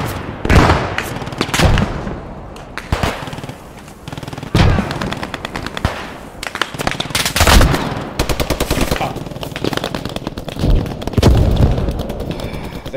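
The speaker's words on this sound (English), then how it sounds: "That's an MG shooting at us somewhere from east." Machine-gun bursts in a World War II shooter battle, loud rattling volleys repeating in clusters with heavier booming shots mixed in across the whole stretch.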